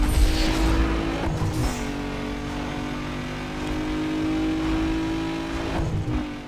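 A tuned street car in Need for Speed Underground 2 drives at speed, its engine holding a steady revving drone with gear-shift dips and brief tire noise, loud and close with no talk over it.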